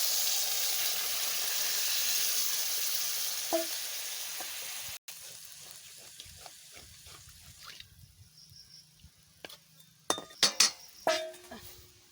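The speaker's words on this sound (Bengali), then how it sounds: "আগে আমি জিরে ফোড়ন দিয়ে দিচ্ছি" Cumin seeds hit hot oil as tempering for a Bengali fish curry, giving a loud, steady crackling sizzle that fades into softer frying, followed by a few sharp clinks of a metal utensil against the pan.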